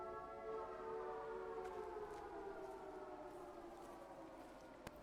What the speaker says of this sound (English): Suddenly, a siren blare.